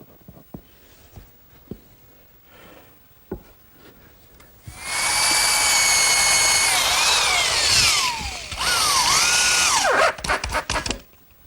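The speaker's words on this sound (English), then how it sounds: "I'm just going to use a little bit of glue and some screws to fasten the 2x." Power drill driving screws through 2x4s into particle board while building a rolling shop cabinet base, a loud sustained whirring burst with pitch sweeps and a second shorter run, after quieter workshop clatter.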